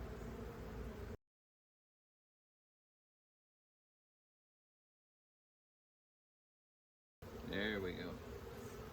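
Honey bees buzzing inside a hive's brood nest, a steady insect drone heard before a long dropout and again afterward, with a voice speaking briefly over it near the end.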